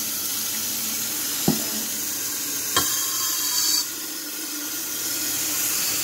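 Hot water runs from a kitchen tap into a pan, a steady hiss with a couple of sharp knocks and clinks of the pan against the sink, close by and without talk.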